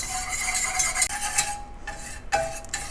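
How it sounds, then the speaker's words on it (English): A flour and butter paste, or roux, stirred in a pan while it lightly browns for a pretzel cheese dipping sauce, giving steady scraping and swishing with a soft sizzle, close and continuous with brief pauses. "Just keep it moving in your pan."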